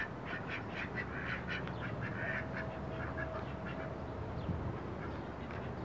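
Several ducks quack in repeated short bursts over a steady, noisy outdoor background, with no one talking.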